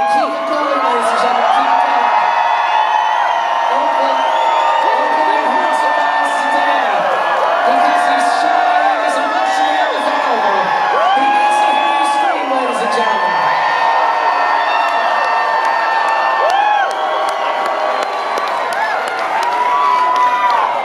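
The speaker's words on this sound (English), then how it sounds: "to hear you scream" A concert crowd at a show in Houston screams, whoops and cheers continuously, loud and packed, with scattered clapping and shrill voices throughout.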